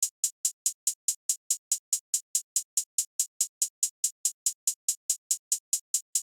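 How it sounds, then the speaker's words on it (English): Crisp hi-hat in a steady two-step beat pattern, about four short bright ticks per second repeating evenly and alone, clean with no other drums or voices. "just a normal two-step hide pattern"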